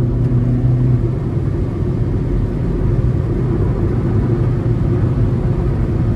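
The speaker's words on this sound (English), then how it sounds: "let's manually shift here as well. Now the shifts are relatively quick" A 2019 Kia Rio S with a 1.6 engine, heard from inside the cabin during quick manual gear shifts: a steady low engine and road rumble, with no distinct break between shifts.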